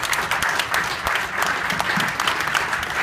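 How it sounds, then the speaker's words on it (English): A round of applause from a presentation audience greets the development team from Austin, with continuous crowd clapping lasting about three seconds, close and steady with no talk over it. "Small round of applause."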